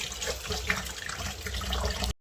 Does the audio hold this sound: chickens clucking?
no